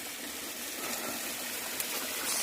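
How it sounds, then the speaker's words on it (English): Small waterfall on a heavily trafficked mountain trail in the Tennessee mountains, a steady broadband rush of falling water, fairly close and constant throughout with no voices. "such a beautiful waterfall"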